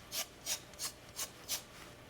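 A knife edge is rubbed to test for a burr, giving five short rasping strokes in an even rhythm, close and quiet, with brief silences between them.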